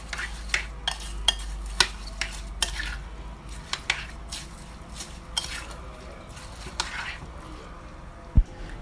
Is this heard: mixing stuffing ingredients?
yes